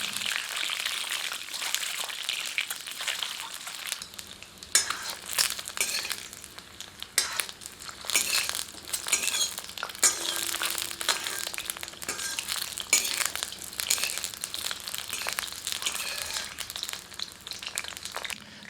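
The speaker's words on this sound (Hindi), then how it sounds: "गर्म तेल में उबाले गए अंडों को थोड़ा सा तलते हैं।" Boiled eggs fry in hot oil in a pan, giving a busy, close crackling sizzle with stirring and occasional sharper pops that goes on without a break.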